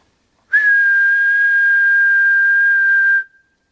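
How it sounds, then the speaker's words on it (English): One long, steady, pure whistle from a person in the woods, loud and close, lasting nearly three seconds with a quick upward slide at the start, set against near silence. "we're going to start with me giving a whistle just to see what happens"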